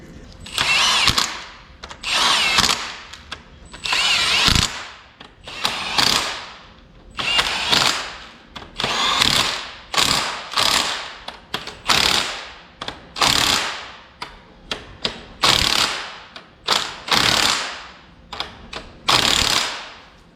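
Power tool and ratchet tightening Loctite-coated engine and clutch bolts during a 1.8T engine and transmission install in a MK3 Jetta. Repeated short whirring and clicking bursts sound close and loud, separated by brief pauses.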